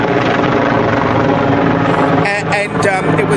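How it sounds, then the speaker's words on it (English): A helicopter passes overhead with a loud, steady rotor and engine roar that fills the whole stretch, with a voice briefly rising over it near the end. "Helicopter!"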